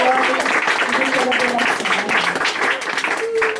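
A church congregation claps in praise to God during a worship service, with steady clapping mixed with voices singing or speaking over it throughout.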